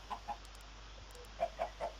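Several short, soft clucks from video game chickens, spaced irregularly over a quiet electronic background.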